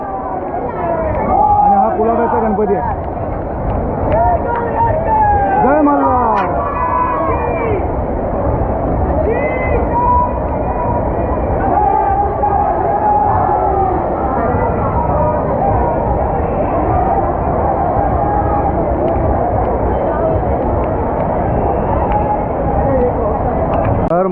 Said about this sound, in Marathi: आज लालबागला जी गर्दी आहे ती फक्त आणि फक्त चिंतामणीच्या आगमनाची गर्दी आहे